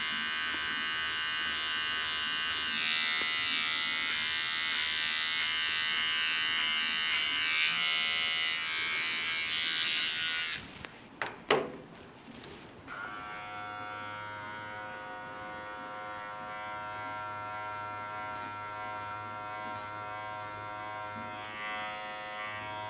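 Electric clippers shave through tight matting on a Maine Coon cat, a steady close buzz running continuously, briefly interrupted by a few clunks before resuming at a lower, even hum.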